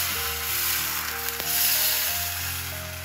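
Garlic paratha made from liquid batter spread on a hot pan, sizzling and crackling steadily for a few seconds, with a faint sharp click partway through.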